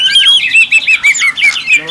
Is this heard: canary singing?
yes